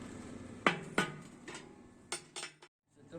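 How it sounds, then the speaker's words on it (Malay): A hammer strikes a chisel to knock metal burrs off a welded workpiece held in a vise during workshop practice, producing a series of sharp metallic taps at irregular intervals, close and fairly loud, ending in a short silence. "pelajar hanya mengetuk sepata yang terhasil ataupun berbola besi yang terhasil menggunakan pahat"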